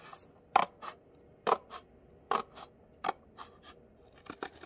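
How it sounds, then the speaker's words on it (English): Scissors snip a series of short cuts into a cardboard box, about six crisp, separate clips spaced roughly half a second to a second apart, close and fairly quiet with no talking. "I'm going to take my scissors and I'm going to little cuts."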